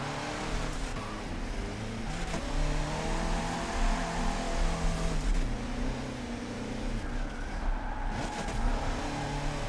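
A Raptor Ranger drift truck driving at full power in rear-wheel drive, its engine revving steadily and droning close up throughout with no talk.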